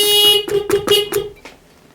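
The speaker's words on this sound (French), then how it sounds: "Est-ce que c'était l'alarme ou est-ce que c'était un problème de faux contact au niveau du klaxon?" A car horn or car alarm blares in a series of loud, close, tonal honks that stutter in short bursts and then cut out, heard during work replacing an inner tie rod and CV boot.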